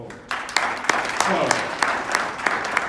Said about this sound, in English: Can you clap hands for